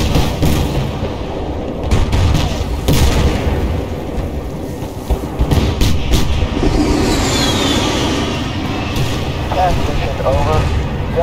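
Battlefield: Bad Company 2 gun run attack rumbles with dense, continuous booms and cannon bursts over a low engine roar, loud and close, while voices talk over the barrage.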